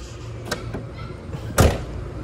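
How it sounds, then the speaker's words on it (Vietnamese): A car door on a 2014 Kia Morning with manual transmission shuts with one solid thud after a faint earlier click, quiet surroundings otherwise. "Cửa đóng bạch bạch bạch bạch."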